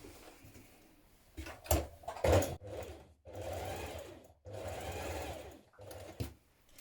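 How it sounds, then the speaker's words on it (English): A domestic sewing machine stitches down the casing of stretch leggings at the seams, running in several short close bursts of rapid whirring separated by brief pauses, with faint handling clunks between runs. "I'm going to stitch it down on the edge at each point where your seams are here"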